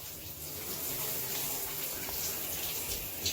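Shower running indoors, a steady hissing spray of water that continues throughout, fairly close, with faint voices in the background.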